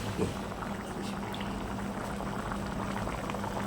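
Water bubbling at a steady boil in an uncovered pot, a continuous soft churning with a low hum underneath, fairly quiet and close.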